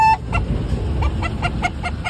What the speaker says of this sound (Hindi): ये हमारी चच्ची के मुर्गे हैं।